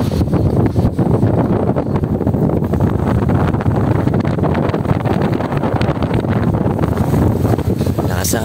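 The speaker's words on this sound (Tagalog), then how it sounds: "Lakas ang hangin." Strong wind roars steadily across the microphone throughout, a loud, continuous buffeting rush with no break, heard outdoors on a trip toward Manila.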